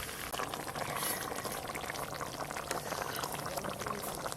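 Pangas fish curry broth at a rolling boil in a pot: a constant, close bubbling and hissing wash that stays even throughout, with no voices over it.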